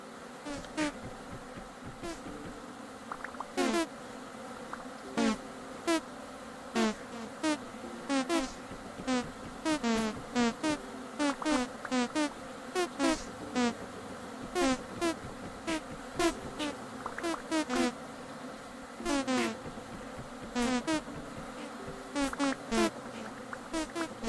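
Bees buzzing in the survival game Vintage Story, a close insect drone with repeated sharp buzzing bursts arriving in irregular clusters over a low steady background, no voices.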